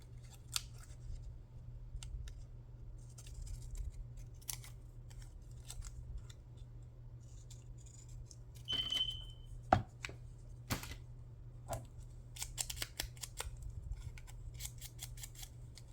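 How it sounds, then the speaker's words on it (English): Pinking shears snip through paper in a few crisp, close cuts, mostly bunched in the second half and standing alone over a low steady hum. "I'm just gonna take these little pinking shears and cut it like so."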